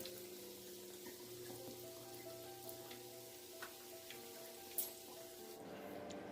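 Homemade fried snacks sizzle softly in oil, a faint continuous hiss with a few small clinks and a brief sharp tap near the end.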